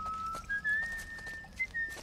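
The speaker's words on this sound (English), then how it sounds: "she's just... trying to whistle." Ellie attempting to whistle in The Last of Us: Left Behind, a thin wavering tone that slides slightly upward and breaks off in short bits over about two seconds, with faint background game ambience.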